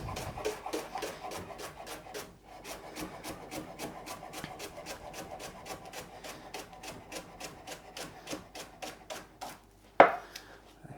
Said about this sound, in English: I'll just quickly chop that.